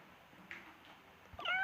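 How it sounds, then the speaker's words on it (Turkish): A cat in the Toca Life World game gives a soft meow partway through, then a louder, rising meow at the end, close and clear over a quiet background. "evin içinde kediler falan var"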